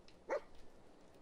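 A dog in a post-apocalyptic survival video game gives a single short, faint bark over quiet background.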